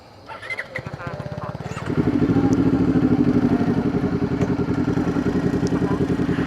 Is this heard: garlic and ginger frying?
no